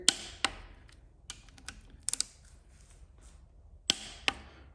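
A torque wrench clicks as engine bolts reach 45 foot-pounds during a 6.0 LS build. Several sharp, close metallic clicks, some in quick pairs, are spaced irregularly over a quiet background.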